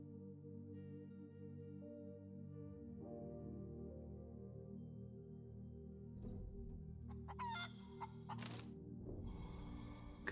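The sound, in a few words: chicken clucking in the video game Breathedge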